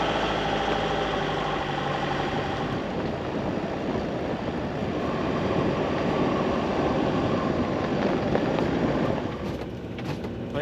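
Off-road vehicle engine driving into soft riverbed dunes strewn with sharp stones, a steady loud engine drone with rumbling and rattling throughout, close and continuous, easing slightly near the end.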